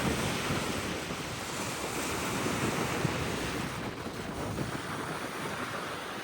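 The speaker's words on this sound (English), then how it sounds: "We're down on Mazarrón beach in Murcia" Waves wash continuously onto Mazarrón beach in Murcia, Spain, as a constant breezy wind rushes across the microphone, with no voices.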